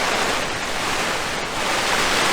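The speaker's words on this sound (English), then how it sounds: "Oh shit, it's windy." Strong storm wind roars steadily against the microphone, a dense, continuous broadband rush with no pauses, close and loud throughout during heavy wind and rain.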